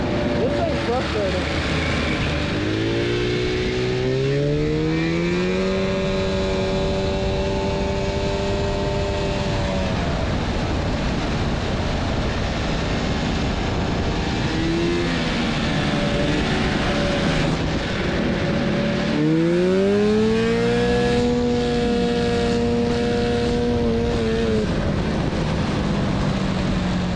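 A 900cc Ducati-engined kart and a 670cc two-stroke go-kart race on an airstrip: loud, continuous engine whine that climbs and falls in pitch with gear changes, over heavy wind rush.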